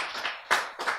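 Audience clapping at a Korean lecture on diet and nutrition, three short bursts of hand claps in quick succession, fairly close and moderately loud.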